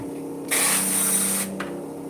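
A high-pressure water jet blasts a split AC indoor unit's blower for about one second, a loud, steady, close hiss that cuts off sharply, with a faint steady hum before and after.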